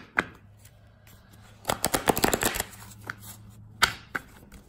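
Tarot cards shuffled by hand, a quick burst of close crisp riffling and slapping in the middle, with a few scattered taps before and after.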